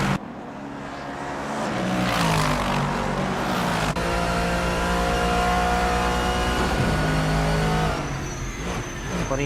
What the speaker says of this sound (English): Putting that V8 engine to work there, Shango,